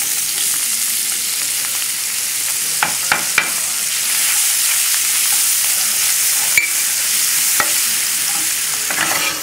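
Chopped onion and garlic fry in a pan over a moderate flame with a steady, close sizzle, broken by occasional scraping knocks as a utensil stirs them.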